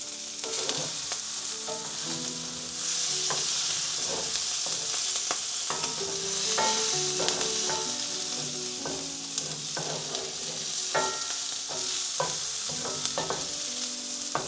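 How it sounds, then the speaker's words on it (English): Onions fry in butter in a pan with a constant bright sizzle, punctuated by soft scrapes and clinks as they are stirred, close and fairly quiet. "Mix those onions around in that butter real quickly."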